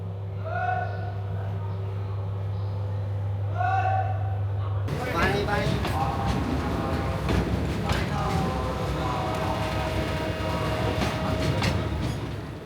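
Parjotak Express from Dhaka to Cox's Bazar starts moving: a steady electrical hum gives way to close, loud rail rumble with rhythmic wheel clatter and metallic creaks, continuing throughout.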